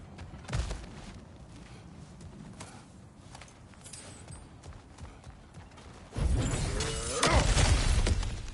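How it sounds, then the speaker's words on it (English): Stone ground cracking and shattering as it is smashed through in God of War Ragnarok, a loud burst of breaking debris near the end after quieter footsteps and movement. "back to smashing through things for fun and profit."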